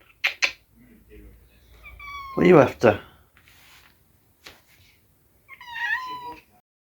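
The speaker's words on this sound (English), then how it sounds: "So it looks like I've got another stray cat in the house." A stray cat indoors meows a few times, close by and fairly loud, with a longer drawn-out call near the middle. A person talks quietly between the meows.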